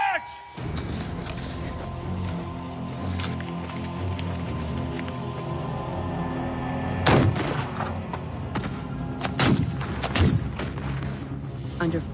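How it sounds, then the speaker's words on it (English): Battle reenactment with gunfire and artillery: a continuous rumbling din of musketry and distant cannon, punctuated by several loud close booms and cracks, with voices and shouting faintly mixed underneath. "Under fire from two sides, Izzard orders his troops to keep advancing"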